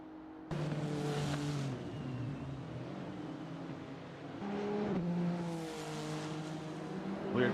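Race car engines in a GT3 sim-racing series at Road Atlanta roar down the straightaway, a steady droning whine that rises and falls as cars pass, with a fresh surge of revving midway; a commentator's voice sits faintly in the mix.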